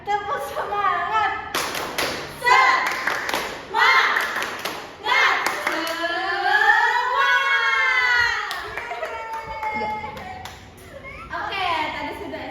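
A school class performs a rhythmic spirit clap, bursts of patterned clapping and thumps mixed with children's chanting voices and a teacher speaking over them.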